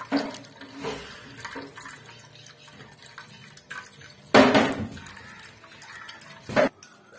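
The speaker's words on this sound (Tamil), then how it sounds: "இதை இப்போ அரிப்புல வச்சு அரிச்சி எடுத்துக்கலாம்." Cotton seed milk is strained through a sieve, with quiet liquid trickling and two short, louder splashing pours standing out against a soft background.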